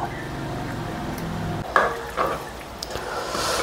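Onion paste frying in oil for a tamarind fish curry, a steady sizzle under a faint tonal hum at first, then stirring knocks and scrapes against the pan.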